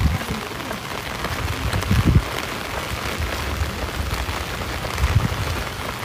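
Steady rain falls outdoors at night in an oil palm plantation in Selangor, Malaysia, a dense continuous hiss of drops on surfaces with a few heavier patters and faint low rumbles, no voices.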